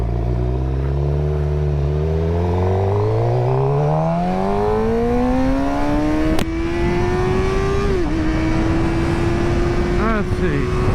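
A 2023 Suzuki GSX-R600 sport motorcycle accelerates hard up a freeway, its engine climbing steeply in pitch through a loud, close howl, with a brief shift break before holding a high, steady scream under wind noise.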